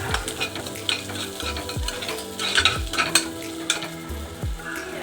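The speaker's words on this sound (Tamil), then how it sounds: "பீன்ஸையும் வந்து இப்போ நல்லா நம்ம வதக்கிக்கலாம்" Beans stir-fry in a pan for mushroom fried noodles, a continuous close sizzle broken by repeated scraping and clanking strokes of a spatula against the metal at an uneven rhythm.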